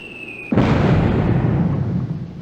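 A video-game explosion in Army Men: after a half-second lull a sudden loud boom bursts out, then rumbles and slowly fades over two seconds.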